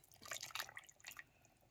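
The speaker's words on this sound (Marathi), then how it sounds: "आता या रशाला कशी चांगली खळकावून उकळी आले बघा" Wet bubbling and popping of a thick fish curry simmering at a boil on a wood stove, a cluster of bursts early then softer plops, close by with no talking.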